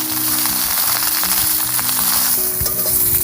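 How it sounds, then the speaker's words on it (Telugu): Brinjal and onion frying in an iron kadai, a loud close continuous sizzle with crackling bursts and faint stirring, no voices. "ఎలా తిప్పుకుంటే అన్ని పక్కలు ఫ్రై అయిపోతాయి"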